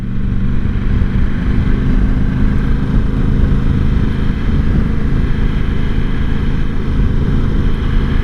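Ducati Multistrada V4 motorcycle on the road, a steady, loud engine drone with heavy wind rumble running unbroken throughout.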